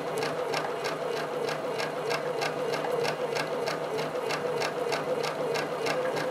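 A sewing machine stitches a quilt in a fast, even run of needle strokes, close and steady throughout with no talking.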